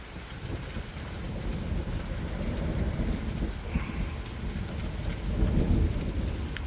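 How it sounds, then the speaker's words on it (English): Steady rain falls outdoors at a barbecue where a whole beef brisket and pork butt are being smoked, a continuous broadband hiss with low rumble that swells slightly louder toward the end, with no voices. "Wasn't supposed to rain in the afternoon today, but here we are, barbecuing in the rain."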